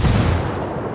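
A frag grenade explosion in the online shooter Ghost War, a loud, dense boom at the very start that rolls into a long, heavy rumble which holds for the rest of the second.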